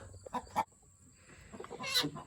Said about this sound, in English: Remember our barnyard mixed rooster?